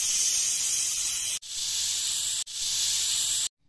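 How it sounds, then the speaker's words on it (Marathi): A pressure cooker cooking drumsticks, tomato and onion releases steam in a loud close hiss. The hiss comes in three steady bursts broken by brief gaps and cuts off sharply at the end. "कुकरच्या 3 शिट्ट्या करून घ्यायच्या"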